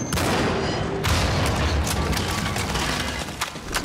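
Gunshots in the video game Cryostasis: Sleep of Reason, loud booming reports over dense, noisy ambience, with a heavy blast early and sharper cracks later.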